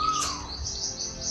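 A bird calls in the mountains with a few short high chirps and a clear whistled note, fairly close, over faint background noise, with no talking.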